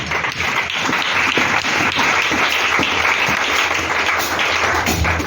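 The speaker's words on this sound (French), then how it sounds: "Acclamons Jésus." A church congregation applauding together, dense, loud, steady clapping from a large group that fills the whole stretch without letting up.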